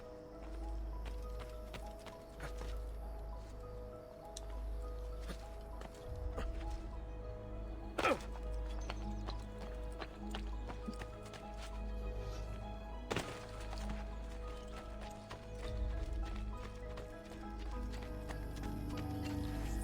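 Horse hooves clatter in a steady galloping rhythm over a low rumble, with a couple of sharp thuds breaking in along the way, in the video game Assassin's Creed Brotherhood.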